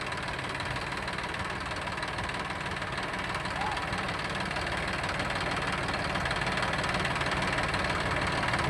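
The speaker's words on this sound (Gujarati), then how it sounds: "હવે ટ્રેક્ટર ચાલુ કર્યું છે." A Mahindra tractor engine runs steadily at idle with a low, knocking chug throughout, and faint voices are mixed in, in a farm field.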